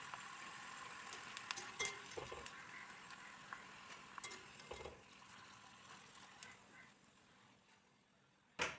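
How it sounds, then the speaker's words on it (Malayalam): Ivy gourd (kovakka) pieces frying in hot oil give a soft, continuous sizzle with light stirring scrapes, fading toward the end before a brief final clatter. "നമ്മൾ ആദ്യം ഫ്രൈ ചെയ്തെടുത്ത രീതിയിൽ തന്നെ ഇതും ഫ്രൈ ചെയ്തെടുക്കാം."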